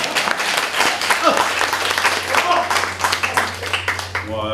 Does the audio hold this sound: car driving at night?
no